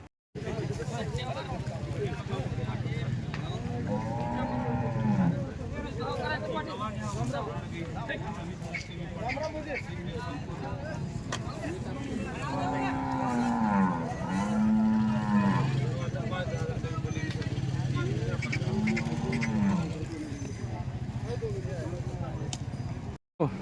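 HF and Jersey cows at a cattle market in Nalegaon, Latur, letting out several long, loud moos at intervals over steady crowd and market noise, with voices talking in the background.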